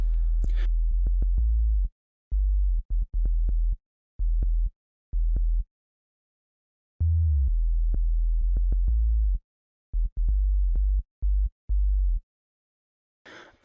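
A deep sub bass synth patch in Ableton plays in loud, sustained low pulses, several long held notes broken by short stabs and gaps, solo with nothing else over it.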